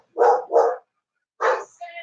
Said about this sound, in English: the dogs are going nuts again